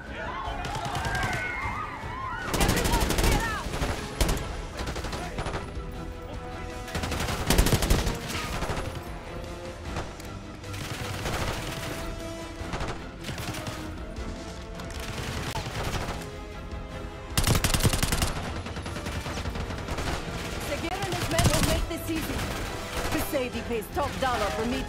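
Rapid bursts of gunfire from the Call of Duty Black Ops 6 mission Blood Feud, loud and repeated across the clip, mixed with shouting voices, game music and action noise.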